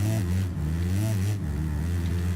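Kawasaki motocross bike engine in the MXGP3 game at the Maggiora track, buzzing loud and close with a low steady drone and short revving swells, no voices over it.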